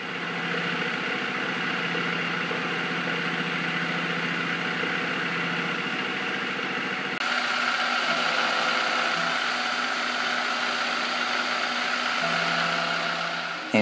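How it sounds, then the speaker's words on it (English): A milling machine cuts 22mm switch holes for a slant bed lathe VFD enclosure, giving a steady loud mechanical drone with a whining cutting tone that shifts midway, continuous for the whole stretch. "Now I'm milling the 22mm holes for the switches."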